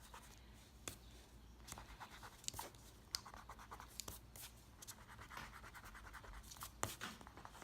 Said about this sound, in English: I'm going to grab a good eraser, because you do not want to leave any marks on your card